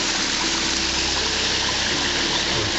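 Water of Injune Creek rushes steadily below a dam, a loud, close, unbroken gush with no voices.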